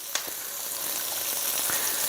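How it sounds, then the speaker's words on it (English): Steady, close sizzling of flat iron steak frying in a hot pan, with faint crackles and pops throughout. "As soon as I added that, it started sizzling and not smoking."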